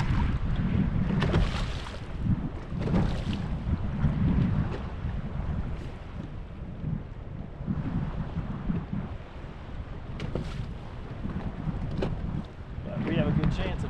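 Gusty wind blows across open water beside a bass-fishing boat, buffeting the microphone in uneven surges with faint lapping water underneath.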